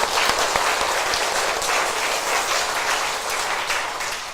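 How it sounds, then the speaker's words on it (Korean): A church congregation claps steadily and loudly through an Easter service, a dense wash of many hands sustained the whole time with no speech over it. "다시 한번 하나님 앞에 영광의 박수 올려드리겠습니다"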